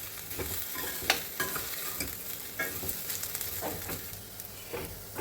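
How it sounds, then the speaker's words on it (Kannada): Vermicelli roasts in ghee and oil in a pan, giving a soft continuous sizzle broken by scraping stirring strokes at irregular intervals, close and moderately quiet with no talk. "ತುಪ್ಪ ಎಣ್ಣೆ ಇರುತ್ತೆ, ಅದರ ಜೊತೆ ನೀಟಾಗಿ 5 ರಿಂದ 6 ನಿಮಿಷ ಚೆನ್ನಾಗಿ ಹುರ್ಕೋಬೇಕು"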